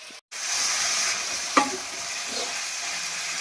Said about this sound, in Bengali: ঠিক আছে, আমি এগুলো ভাজতে থাকি